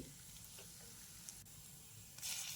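Faint, steady sizzle of capsicum pieces frying in a pan, with a few light stirring scrapes and a brief louder hiss near the end.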